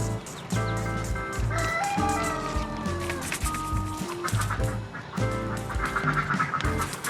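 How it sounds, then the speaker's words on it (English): Backyard chickens clucking and calling from a garden coop, a steady busy stream of fowl chatter with overlapping squawks and cackles, fairly close and loud throughout. "I hear a lot of actual happy birds over there."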